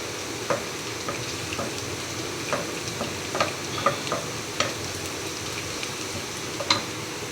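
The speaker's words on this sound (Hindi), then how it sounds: "हल्का हल्का लहसुन फ्राई हो जाए" Steady sizzling of garlic frying in a pan over medium heat, with soft scattered crackles and pops over an even hiss.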